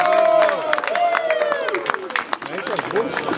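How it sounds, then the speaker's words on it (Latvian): Audience applause fills an awards ceremony for a hunters' shooting cup, steady clapping and crowd noise sustained throughout, with a voice tone sounding over the clapping at the start. "Stiprāji aplaudējam, tā ir mūsu nākotne."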